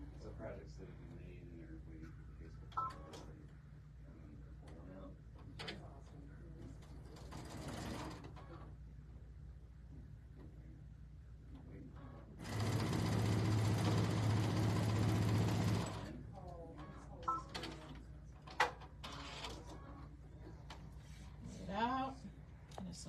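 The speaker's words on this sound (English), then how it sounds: "now I'm going to sew this to this" A sewing machine stitches quilt fabric for a strippy table runner in one steady, loud run of about three seconds, with someone talking quietly before and after.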